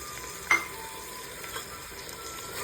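Ginger, garlic, tomato and masala fry quietly in a pan for a drumstick biryani, a soft continuous sizzle broken by one sharp clink of a utensil and a few light stirring scrapes.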